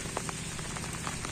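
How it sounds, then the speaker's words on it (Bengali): Steady morning rain pattering over a vegetable market, a continuous close wash of drops with occasional louder splashes and no voices. "এখন সকালবেলা বৃষ্টি পড়তেছে"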